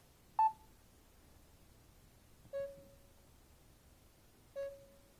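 A Samsung Gear 2 smartwatch gives Bluetooth pairing beeps: three short, clean electronic tones, evenly spaced about two seconds apart, each with a brief falling tail, over a quiet background.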